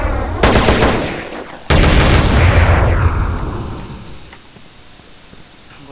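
Loud gunfire from a powerful weapon in the video game GTA San Andreas, with two heavy bursts of shots, the second longer and echoing as it fades out.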